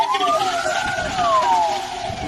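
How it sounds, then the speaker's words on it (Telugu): A loud ambulance siren sweeps up and then slowly falls in pitch over a couple of seconds above a rumble of road traffic, with no talking. "అంబులెన్స్ సైరన్ శబ్దం ఎందుకలా ఉంటుందో తెలుసా?"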